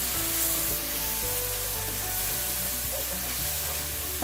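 Tomato puree hits a pan of browned, caramelized onions with a soft, steady sizzle and hiss, faint and continuous throughout.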